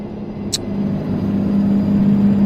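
A low, steady big-rig truck engine drone from American Truck Simulator, with a modded engine sound, hums and slowly builds, with a brief sharp click near the start, no speech over it.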